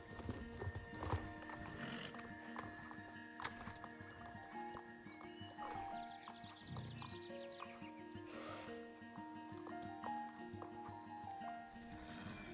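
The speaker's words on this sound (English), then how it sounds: "They've got 4 quarter horses sitting out here." Quarter horses in the online game Star Stable Online, with steady hoof clip-clops, occasional whinnies and other farm animal calls over a continuous game ambience and music bed at moderate level.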